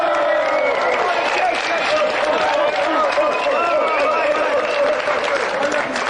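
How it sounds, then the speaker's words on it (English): A studio audience gives a sustained round of clapping and cheering for a contestant on the GamesMaster TV show, a dense, even roar of hands lasting several seconds with crowd noise mixed in. "let's have a round of applause for tonight's contestant"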